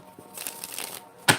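Tarot cards shuffled by hand during a live reading, a soft papery riffle and flutter lasting about a second, followed by one sharper, louder snap of the deck near the end.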